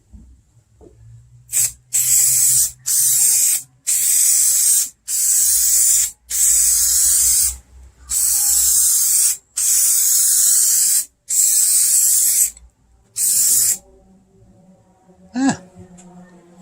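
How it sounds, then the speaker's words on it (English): Rattle-can spray paint laying a primer coat on a 1962 Mercury Comet, heard as about nine loud, close hissing bursts of a second or so each, separated by short pauses, followed by a brief rattle near the end. "I think I am ready for a coat of primer"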